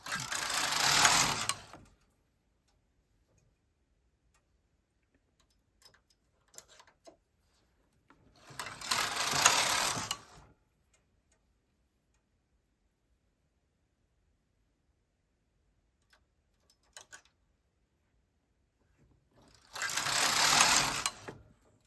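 A Silver Reed SK150 bulky knitting machine carriage racks across while knitting a felted slipper: three loud sweeping passes, each about two seconds long, separated by long near-silent pauses with faint clicks of needles and handling.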